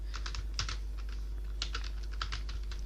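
Rapid bursts of clicks from a computer keyboard being typed on while building VBA billing software in Excel, with clustered keystrokes over a steady low hum and no talking.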